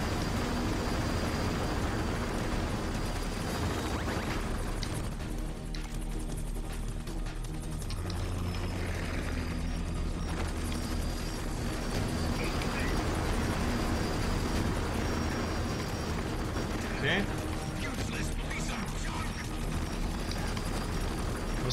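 Helicopter in the Metal Gear Solid: The Twin Snakes video game, a steady dense rotor-and-engine roar that runs unbroken throughout, mixed with other game sound effects and occasional sharp hits.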